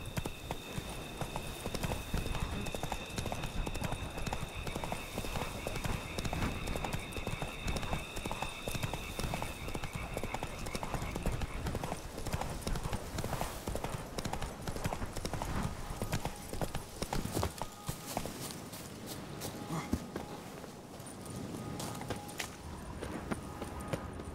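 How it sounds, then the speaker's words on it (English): Hoofbeats of a horse galloping in a video game, a loud, steady clip-clop that runs continuously and close throughout. "Run, Roach."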